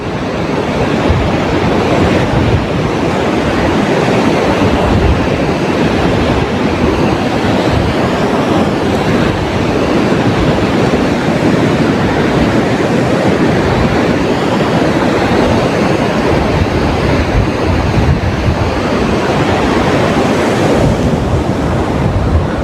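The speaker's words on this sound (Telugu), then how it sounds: "ముందుకు వెళ్ళిన తర్వాత అక్కడ సముద్ర కెరటాలు ఏ విధంగా ఉన్నాయో ఒకసారి చూపిస్తాను మీకు" Sea waves crash continuously onto Sankaraguptam beach on a full-moon day, a loud, close, unbroken roar of surf with heavy wind buffeting the microphone.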